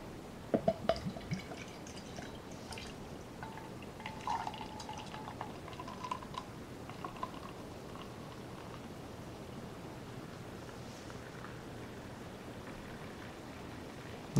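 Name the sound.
beer being poured into a glass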